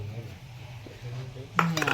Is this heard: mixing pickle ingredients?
yes